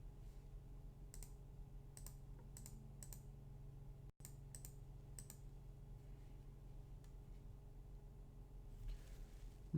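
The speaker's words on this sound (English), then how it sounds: "someone is typing." Soft keyboard typing in quiet bursts of clicks, a few quick keystrokes at a time with pauses between, heard faintly over a steady low hum in a quiet room.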